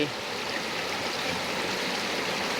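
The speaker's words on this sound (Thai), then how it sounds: "อันนี้ให้ชมลำธารกันประมาณสักสองนาที" A stream runs alongside a plot of rural land with a view of Khao Yai, giving a steady, close rush of flowing water that stays even throughout.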